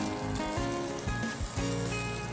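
Garlic sizzling and browning in a hot pan, a steady close crackle and hiss with faint clinks of utensils and no talking.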